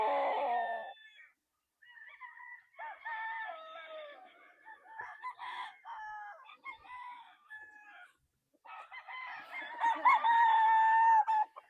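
A Kelso sweater gamefowl rooster on a game farm crows repeatedly at close range. The drawn-out, strained crows are broken by short pauses and clucks, ending in a loud final crow.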